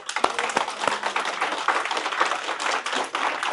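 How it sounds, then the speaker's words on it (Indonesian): A small group of people claps in scattered, uneven bursts, with individual sharp hand claps standing out close by and faint voices mixed in. "Tepuk tangan dong."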